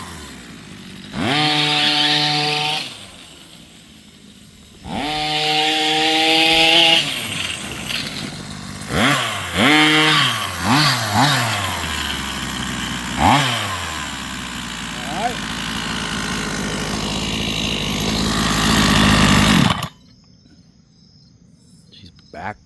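A repaired Rovan 45cc gas engine starts and runs loud and close, with several sharp revs rising and falling before it cuts off, leaving quiet.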